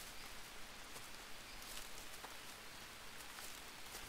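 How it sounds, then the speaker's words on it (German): Rain falls in the jungle survival game Green Hell: a soft, even, continuous hiss of drops on surfaces, faint and steady throughout with no other sounds. "Und es regnet wieder."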